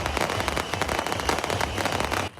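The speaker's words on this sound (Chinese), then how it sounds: "一个炮声连续一直炸" Yanshui beehive firecrackers bursting nonstop at a Tainan festival, a dense, loud crackling barrage of rapid pops that cuts off abruptly near the end.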